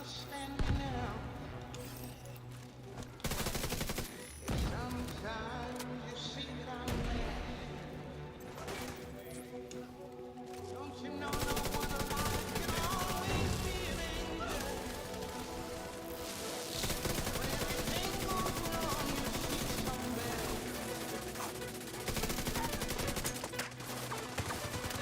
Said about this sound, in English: They're shooting me while I'm in cover.